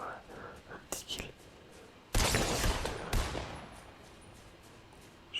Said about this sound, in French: Là ça tire pas mal devant